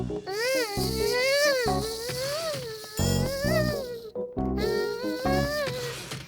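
A cartoon character's voice imitates the buzz of a fly in a high, wavering hum, loud and close, sustained across most of the moment with brief breaks and pitch swoops.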